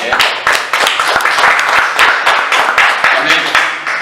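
A church congregation claps during a Spanish-language sermon, a loud, close, continuous patter of many hands with irregular sharper claps, and voices of the crowd mixed in throughout.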